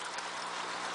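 Chlorine-free filtered water pours steadily into a bucket, a close, continuous rushing splash with no pauses.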